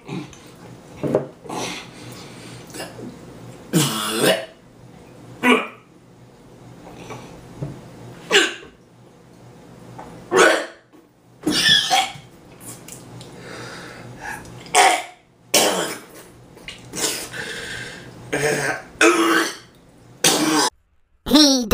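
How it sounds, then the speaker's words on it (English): A man gags and coughs repeatedly while trying to eat a whole jar of Nutella in three minutes, with loud, irregular bursts of coughing, throat clearing and retching spread through the stretch and quieter pauses between. "there is plenty of gagging and coughing"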